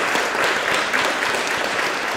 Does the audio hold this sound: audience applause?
yes